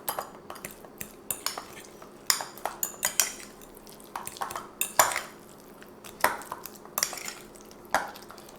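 A utensil scrapes and clinks against a bowl in an irregular rhythm while an egg is mixed into tuna for a tuna burger, close and clear with no talking.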